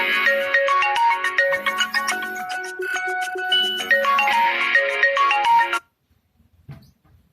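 A melodic phone ringtone plays loud and steady for several seconds, then cuts off abruptly, leaving near silence with faint rustling.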